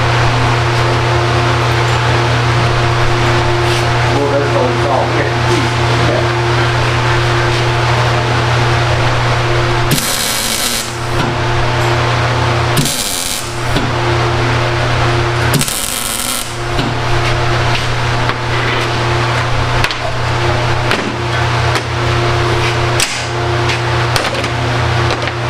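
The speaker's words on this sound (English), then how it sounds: "I'm going to go ahead and tack this in a few places to move it around." Several short, loud bursts of tack welding on steel for custom truck-bed light boxes crackle sharply over a steady shop fan or air-conditioning hum, with no talking.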